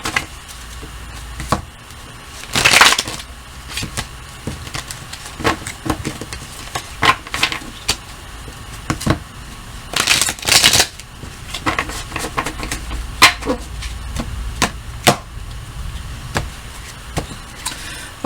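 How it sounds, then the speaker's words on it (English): A tarot card deck being shuffled by hand: two louder riffling bursts stand out among scattered soft card clicks and taps, close and moderately quiet, with no talking. "I better truffle shuffle this."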